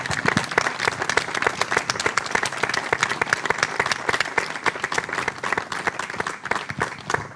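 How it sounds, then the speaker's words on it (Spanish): An audience applauds a behind-the-scenes team at a Spanish-language event, dense sustained clapping from many hands throughout, fairly close and even, with faint voices mixed in. "un aplauso para ellos"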